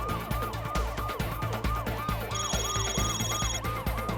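A Korean 119 fire engine races to an emergency call-out over a car fire near Olympic-ro, its siren wailing in repeated rising and falling sweeps, loud and close, over steady road and engine rumble with no voices.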